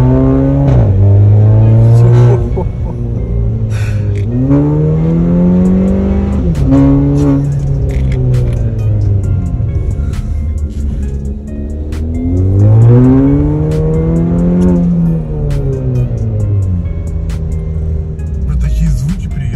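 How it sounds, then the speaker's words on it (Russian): A VW Polo with a 1.4 turbo engine and straight-pipe exhaust revs hard and loud, repeated rising and falling bursts with a raspy, booming tone, close up and sustained throughout. "Это означает, что все остальное это просто прямая труба, просто трасса на прямой трубе. Собственно, звук провокационный."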